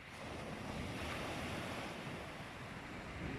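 Sea swell breaking on Shoreham beach in rain with wind, a steady dense roar of surf and gusting wind noise on the microphone, continuous and even with no talking.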